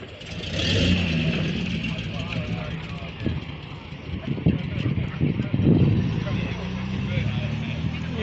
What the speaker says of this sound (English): Comes the Ferrari 250 replica